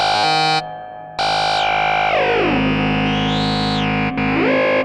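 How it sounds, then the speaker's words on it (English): A Moog Grandmother analog synthesizer screams through a bandpass filter with two resonance controls and reverb, loud harsh tones that cut out briefly, return and sweep up and down in pitch with shifting overtones. "So you can get really crazy and screaming sounds together with the reverb."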